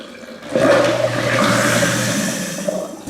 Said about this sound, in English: pull the plug, hit the disposal switch